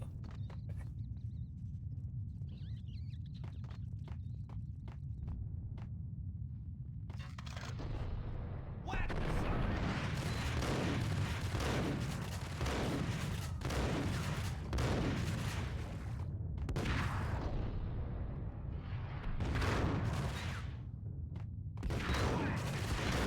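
Gunfire in the video game Max Payne, a few scattered shots over low rumbling ambience, then a long stretch of heavy, dense shooting and impacts, loud and continuous with voices partly underneath.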